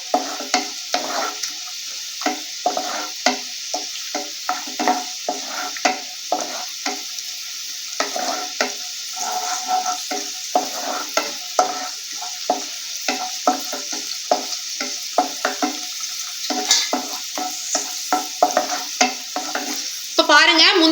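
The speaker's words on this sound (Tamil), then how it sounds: "முந்திரி பருப்பை வறுத்து எடுத்துக்கிறலாம்." Cashew nuts frying in ghee for wheat halwa, a continuous sizzle punctuated by rhythmic scraping and clinking as a spoon stirs them repeatedly against the pan, close and fairly loud.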